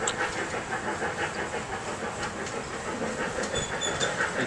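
A train rumbles and hisses steadily along the tracks, a continuous broad noise with faint rhythmic clatter, heard from inside a carriage.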